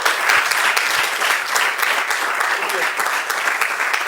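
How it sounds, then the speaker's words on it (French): A crowd claps steadily, a dense wash of applause that continues without a break, with voices faintly mixed in. "Applaudissez pour nous aussi, non?"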